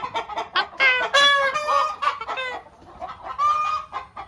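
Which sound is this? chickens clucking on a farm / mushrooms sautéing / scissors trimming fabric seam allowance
chickens clucking on a farm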